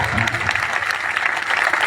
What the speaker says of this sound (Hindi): ताली बजाओ, जान लिया।